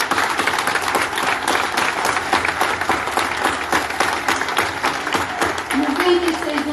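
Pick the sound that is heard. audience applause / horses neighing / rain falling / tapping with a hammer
audience applause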